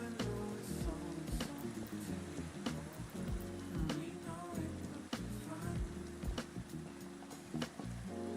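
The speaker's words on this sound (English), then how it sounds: "Of course, it has to rain at around this time." Rain falls in the video game Minecraft, a steady hiss with scattered drop-like taps throughout, heard alone with no talking.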